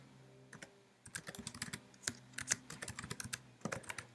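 Fingers type on a computer keyboard while entering a school email and password, a quiet run of quick irregular key clicks in short bursts with brief pauses, close by.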